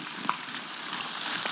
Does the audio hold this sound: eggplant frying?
yes